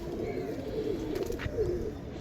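Pigeons of the fancy Fulsira and Kalanka breeds coo in soft, rolling low calls close by, several overlapping throaty phrases repeating over a steady background murmur.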